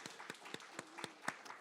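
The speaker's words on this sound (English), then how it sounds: "How about another round of applause for all the presenters and the information?" A small seminar audience gives the presenters a brief scattering of claps, with single sharp hand claps spaced irregularly, quiet and somewhat distant.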